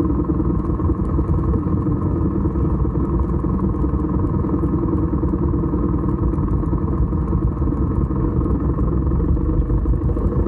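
Steady exhaust and engine drone of a BMW R1250GS Adventure boxer-twin motorcycle riding through Gangwon-do autumn scenery, continuous and close, muffled and heavy in the low end with wind rumble, no talk.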